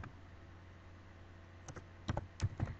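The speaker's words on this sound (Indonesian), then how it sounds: "Kemudian setelah itu kita ketikkan more" A computer keyboard being typed on in a quiet room, entering a Linux command, with a handful of crisp, close key clicks bunched near the end after a low steady hum.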